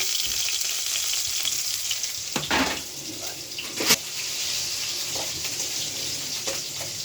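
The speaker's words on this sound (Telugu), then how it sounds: "ఇప్పుడు ఉల్లిపాయ పచ్చిమిరపకాయలు వేయాలి" Onions and green chilies hit hot oil with cumin seeds, giving a steady hiss of frying with a few sharp clinks and stirring scrapes, recorded close and fairly quietly.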